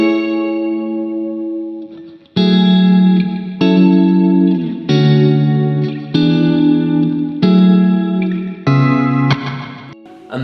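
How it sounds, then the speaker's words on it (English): Electric guitar strums simple sustained chords in a turnaround bridge, heavily treated with chorus, echo and distortion, each chord ringing out before the next in a slow, repeating sequence. "I then made a bridge section with the guitar playing simple chords in a kind of turnaround arrangement"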